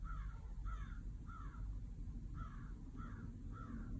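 A large black bird caws six times in an evenly spaced series, harsh and moderately distant, over a steady outdoor background hum.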